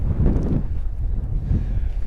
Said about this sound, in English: it's a little bit chilly outside and kind of windy